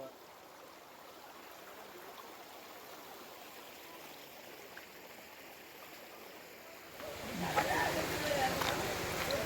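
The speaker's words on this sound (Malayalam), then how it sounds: "ഇതാണ് നമ്മൾ ഇന്നലെ കുളിച്ച പുഴ." A river flowing beside the traditional forest pilgrimage trail to Sabarimala in Kerala gives a steady, broad rushing wash that swells louder and closer near the end, with no clear speech over it.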